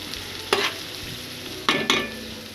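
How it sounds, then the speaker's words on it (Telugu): A tempering of spices fries in a pan with a steady sizzle, broken by a few sharp scraping stirs of a spoon against the metal, close and fairly loud. "సో ఒకసారి ఇలా మనం తిప్పుకుందాం."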